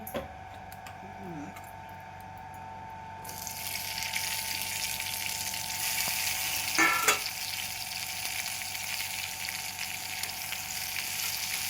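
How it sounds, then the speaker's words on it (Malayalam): Ginger, green chili and garlic sauté in coconut oil, a steady frying sizzle that swells louder after a few seconds, with a brief utensil scrape midway and people talking faintly nearby. "നമുക്കിനി ഇഞ്ചിയും പച്ചമുളകും വെളുത്തുള്ളിയൊക്കെ വഴറ്റിയെടുക്കണം."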